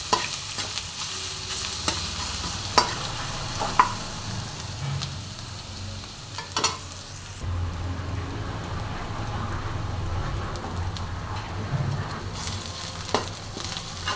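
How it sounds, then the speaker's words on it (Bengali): Grated ginger fries with tempering spices in a pan: a constant close sizzle broken by sharp clicks and scrapes from stirring. "আদাটা আমি ভালো করে ভেজে নেব ফোড়নের সাথে"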